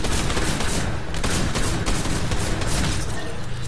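Dense video game gunfire, rapid bursts and shots overlapping in a loud, continuous barrage that stays steady throughout without pauses.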